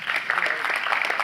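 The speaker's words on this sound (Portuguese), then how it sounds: "Vamos uma salva de palmas aqui para o PP." Brief burst of audience applause at a church gathering, a dense patter of many hands clapping close by with a voice speaking over it.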